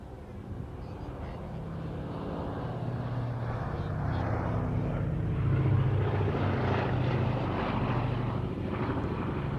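A World War II heavy bomber flies past at the RAF Waddington airshow with its bomb doors open, a steady propeller-engine drone building gradually and holding loud, with some wind rumble and no talk over it.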